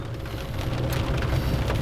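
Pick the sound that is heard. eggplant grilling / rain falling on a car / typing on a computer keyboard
rain falling on a car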